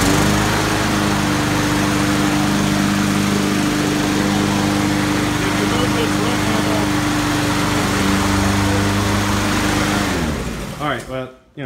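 A Powerstroke Subaru EA175V self-propelled lawn mower engine runs loud inside a garage, a steady high buzzing drone that cuts out near the end, leaving a few sputters and quiet.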